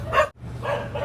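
Excited dogs give three short, sharp barks close by, with a brief gap after the first and no talking.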